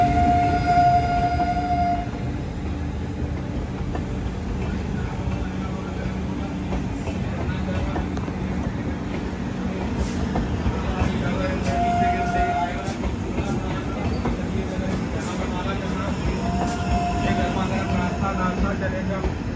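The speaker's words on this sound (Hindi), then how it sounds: "गाजियाबाद से डिपार्ट हो रही है डबल डेकर एक्सप्रेस।" Amrit Bharat double-decker express train departing Ghaziabad, a continuous loud rumble of rolling wheels with brief tonal horn-like whines, heard from on board, no speech.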